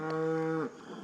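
A pregnant cow on a farm, close to calving, gives one loud, close moo lasting over half a second, then it trails off into quiet.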